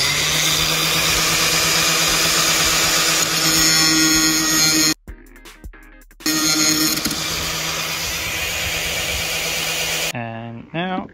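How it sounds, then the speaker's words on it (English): A power grinder cuts a flat onto the corroded rear wiper arm shaft of a VW Polo, a loud close steady whine held for several seconds, briefly stopping and restarting, then spinning down. "I'm going to grind a flat on it."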